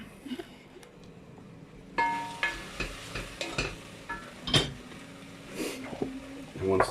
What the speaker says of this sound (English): what we're going to do is just going to soften these leeks down now